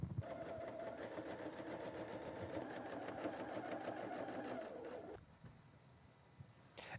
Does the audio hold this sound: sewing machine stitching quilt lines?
yes